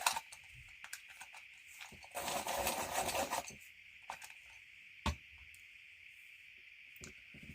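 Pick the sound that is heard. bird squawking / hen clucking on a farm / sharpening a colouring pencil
sharpening a colouring pencil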